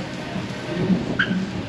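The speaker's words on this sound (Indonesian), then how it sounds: "makin hujan ternyata." Steady rain falls on a city street at night in Westlake, Los Angeles, a dense wash of hiss close by with a low rumble beneath and no voices.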